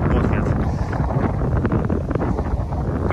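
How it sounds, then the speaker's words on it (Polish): Strong wind blowing on a beach in Zanzibar, at Uroa Bay, roaring steadily against the microphone as a dense, continuous buffeting rush with no break across the whole stretch. "Ale wieje dzisiaj mega wiatr."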